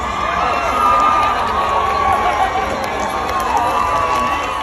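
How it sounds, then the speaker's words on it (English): A large crowd bursts into loud, sustained applause and cheering as the Duke and Duchess of Sussex arrive at a public event. The roar stays dense and steady throughout, with voices mixed into it. "you could hear the thunderous applaud"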